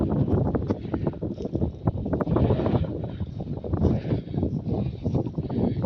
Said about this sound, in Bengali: অলরেডি কিন্তু বাতাসের শব্দ শুনতে পাচ্ছে